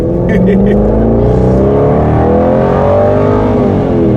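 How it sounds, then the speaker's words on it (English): An Aston Martin Vantage GT8 engine revs loudly while driving on the road, its rising and falling tone filling the whole stretch without a break, close and dominant over the road noise. "The roads are alive with the sound of GT8."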